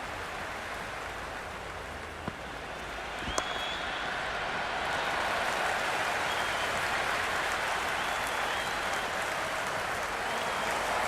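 A stadium crowd in the Cricket 26 video game during a T20 World Cup match between India and Namibia, clapping and cheering as a continuous dense wash that swells louder partway through and holds.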